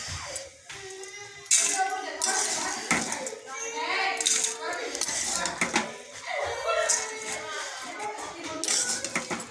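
Plates and dishes clatter and clink steadily while chura mixture is served, busy handling sounds mixed with speech and other household noise throughout.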